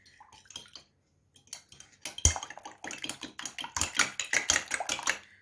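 An egg-based hair mask is stirred briskly in a bowl, making a quick run of close clinks and wet scraping that grows busier and louder toward the end.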